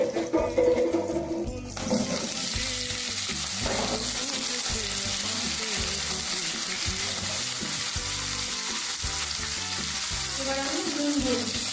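Chopped bottle gourd hits hot oil in a pan with a loud burst of sizzling, then a steady, dense frying hiss continues throughout, with occasional stirring clatter close by.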